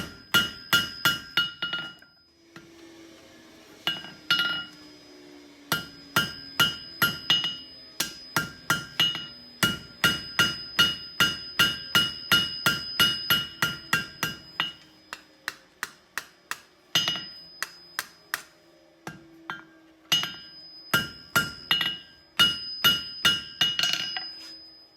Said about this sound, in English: as I hammer this, I'm focusing on the corner of the anvil